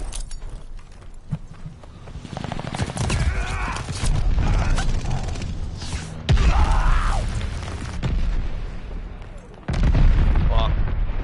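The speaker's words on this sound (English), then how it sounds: "Sending mortar shells." Mortar shells exploding in Call of Duty: Vanguard: heavy booms and blasts land one after another over continuous battle noise and gunfire, with a sudden loud impact near the middle and another toward the end.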